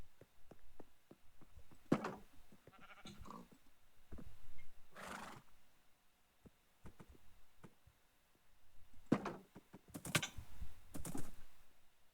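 Horse neighing in a video game, several sharp whinnies and snorts spaced through the clip amid soft clicking, fairly quiet overall with no talk.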